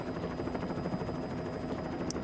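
A helicopter filming a World Rally Championship stage at the Monte-Carlo Rally produces a steady, continuous rotor drone with dense low thumping, heard close and at moderate level with no voices.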